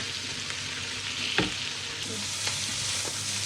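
Vegetables stir-fried in a large pan, a steady close sizzle with occasional scraping clinks of a utensil against the pan, no voices.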